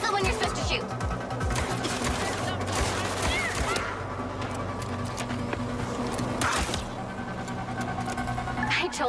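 Gunfire in MindsEye, repeated shots and bursts over dense battle noise, loud and near, with voices talking throughout.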